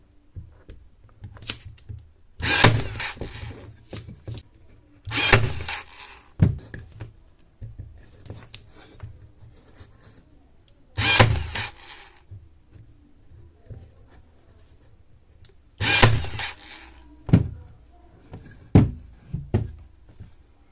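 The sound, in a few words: Hasston cordless staple gun stapling U staples into cable on board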